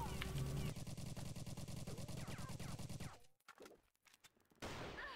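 Gunfire in the video game CrossFire: dense, rapid automatic fire rattles loudly for about three seconds, then breaks into scattered single shots and brief gaps before another close burst.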